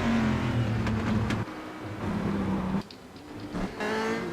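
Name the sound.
Corvette C6R engine rumble in iRacing video game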